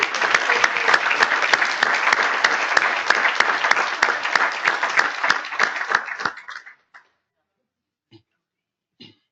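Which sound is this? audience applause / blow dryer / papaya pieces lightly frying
audience applause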